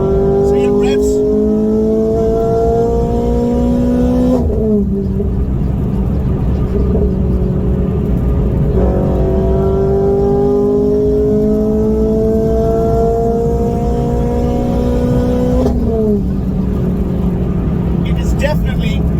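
A Renault Clio 200 track car's engine revs hard under acceleration, pitch climbing steadily through long pulls with sharp drops at each gear change, loud and close from inside the cabin.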